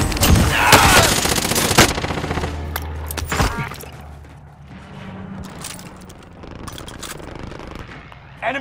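Gunfire rattles through a Call of Duty: Modern Warfare match, loud bursts of automatic fire up front that thin out into scattered distant shots and clanks, with a game voice briefly calling out over the action.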